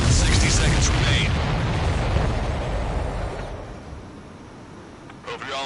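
Rumbling, booming explosions from an Ace Combat 7 aerial combat mission roll loudly through the opening seconds, then fade into a quieter background rumble toward the end.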